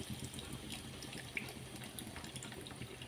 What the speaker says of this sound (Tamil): அந்த பருப்பு வேக வச்ச தண்ணியை அதில் இருத்து விட்டு